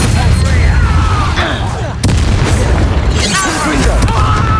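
Incendio fire spell cast in the video game Hogwarts Legacy during a fight at a loyalist camp, a loud booming fiery burst amid dense, continuous combat noise with several bangs and whooshes.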